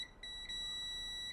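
Multimeter continuity beep while probing a trace on a mobile phone circuit board, a steady high-pitched electronic tone sounding continuously, loud and alone.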